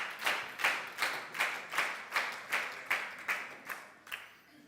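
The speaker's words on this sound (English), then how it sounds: "Keep that clap on" An audience at a leadership camp claps in slow, even unison, about nine loud rhythmic beats in a row, then trails off raggedly at the end.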